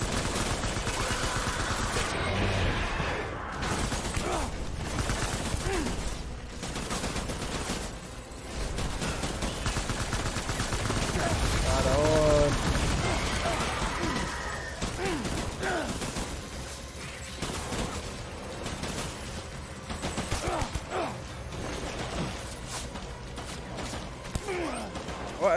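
Sustained, dense gunfire fills a battle in the video game Death Stranding, with rattling bursts and mechanical clatter continuing loud and close throughout, some voices mixed in.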